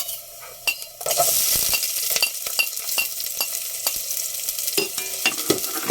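Ginger frying in oil for pork sinigang, a steady close sizzle that swells after the first second, with repeated scrapes and clinks of a utensil stirring against the pan.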